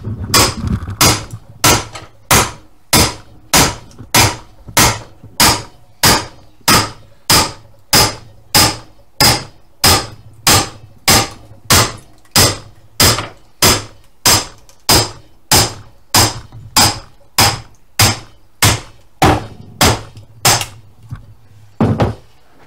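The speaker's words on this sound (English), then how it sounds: "you can put the axe in and then use the hammer to" A hammer drives an axe into a log with sharp, evenly spaced metal-on-wood blows, roughly thirty strikes in a steady rhythm, loud and close, with no voices.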